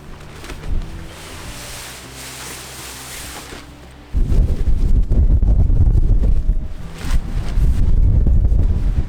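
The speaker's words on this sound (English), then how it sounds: "The wind is whipping the sides of it." Strong wind buffets a tent on St Kilda, first as a softer low rumble, then a sudden loud surge of heavy gusts and flapping that roars on to the end.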